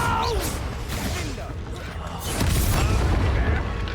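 A Confringo blasting spell bursts in Hogwarts Legacy combat, a booming explosion rising from about the midpoint and holding loud, with earlier clatter and game sound beneath.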